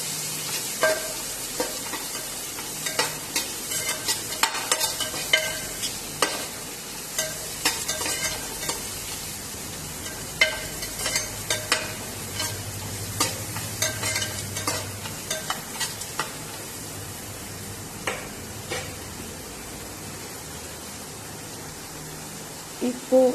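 Sliced large onions frying in a pan until golden, a continuous soft sizzle with frequent stirring scrapes and taps recurring irregularly over the whole stretch, close and moderately quiet.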